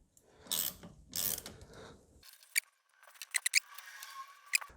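A ratchet clicks in short bursts while loosening the 12-volt battery terminal on a Toyota Corolla Hybrid, with brief mechanical rustling and scraping before a series of sharp, close clicks.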